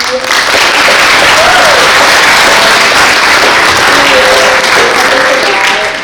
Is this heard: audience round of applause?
yes